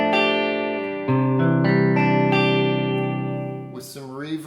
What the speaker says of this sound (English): There's still a beautiful clean tone with the stock tube